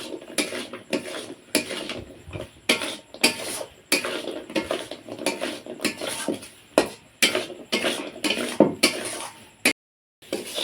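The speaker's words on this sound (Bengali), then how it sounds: "উনুনের জালটা বাড়িয়ে দিয়ে অনাগ্রত এইভাবে নাড়তে চাড়তে থাকবো যাতে চিনির রসটা সব গজার গায়ে একদম শুকনো হয়ে যায়" Small gaja sweets being stirred in sugar syrup in a pan over a raised flame: rapid, irregular scraping and clinking of a utensil against the pan, repeated throughout, close and fairly loud, with no talking.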